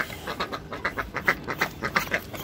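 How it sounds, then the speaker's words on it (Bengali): Farm ducks quack eagerly for food in a rapid, irregular series of nasal calls, several birds overlapping close by against a faint outdoor background. "এই হলো হাঁসেদের খাবার, ওরা খাবারের জন্য চিল্লাচিল্লি করতেছে।"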